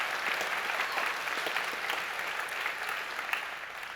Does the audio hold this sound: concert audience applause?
yes